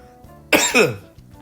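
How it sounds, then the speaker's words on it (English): A single sharp cough, close and loud, breaking a quiet background. "I don't know why I'm coughing so much all of a sudden"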